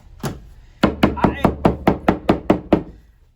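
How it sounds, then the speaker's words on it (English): A hammer taps a hot-glued cardboard model seam, one knock followed by a quick even run of about eight sharp, close wooden-sounding taps. "I use a hammer on some of these glues, and it makes a huge difference."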